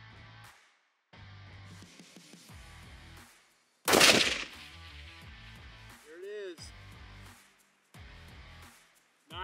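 A 7mm PRC rifle loaded with Federal Terminal Ascent fires once at a target more than 1,000 yards off, a single sharp, loud crack set among stretches of nearby talk.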